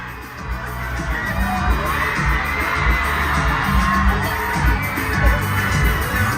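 A large concert crowd at a final stadium show in Italy roars and cheers without a break, a dense, steady wash of voices with occasional louder whoops rising out of it.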